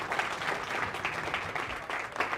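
An audience applauds players at a TV table during the final day of the Mezz Bucharest Open, a steady wash of many hands clapping with no voices over it.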